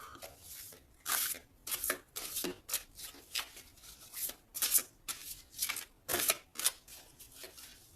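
Tarot cards are shuffled close by in repeated quick riffling bursts, each a short crisp flutter, coming in an uneven rhythm with brief pauses between them.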